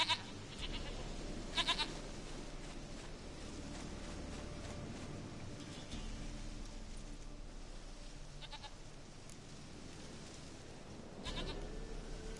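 Goat bleats in The Witcher 3, a few short calls near the start and later over steady ambient game sound, no talking.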